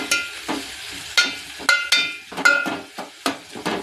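Ginger garlic paste spattering in hot oil in a kitchen pan, with a steady sizzle broken by a series of sharp stirring clatters and scrapes of a spoon against the vessel.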